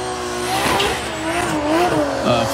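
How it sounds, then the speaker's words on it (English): Drift car tires squeal and howl as a driver warms them up at a Formula Drift event in Florida, a loud continuous screech with wavering pitch over roaring engine noise, close and unbroken. "Formula Drift sophomore warming up his tires as Alex's score comes in, 87."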